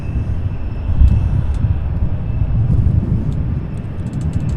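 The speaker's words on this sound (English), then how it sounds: "next up an A306, taking 35 left on the other side there, UPS 328, heading to San Juan" A UPS Airbus A300-600 freighter takes off from a runway on the far side of the airfield, a steady distant engine rumble with faint higher whine, heard alone.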